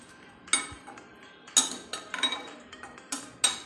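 A spoon stirs kabuli chickpeas in a metal pot, producing sharp, irregular clinks and scrapes against the sides, spaced out with quiet gaps between them.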